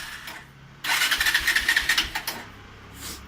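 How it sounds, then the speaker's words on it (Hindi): An 11-year-old Bajaj Pulsar 200cc motorcycle, old model, fitted with a new carburetor, fires up on one press of the self-starter: a short cranking whir catches into a loud, rapid pulsing idle, then settles quieter. "गाड़ी एक सेल्फ स्टार्ट है"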